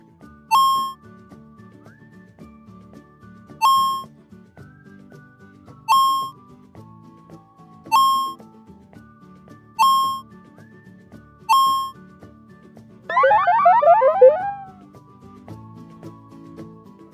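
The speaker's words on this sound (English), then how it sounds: "When I need entertainment, I play retro games on the OLED displays." Retro paddle ball game running on small OLED displays of a DIY modular smartphone: evenly spaced short electronic beeps about every two seconds, then a brief warbling chirpy burst, over a faint steady background hum.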